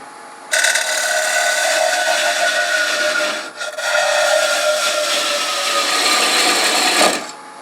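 A wood lathe hollows a turned wooden jewelry box with a steady, loud scraping hiss of the tool cutting into the spinning wood. The cutting breaks off briefly midway, then resumes and stops abruptly near the end.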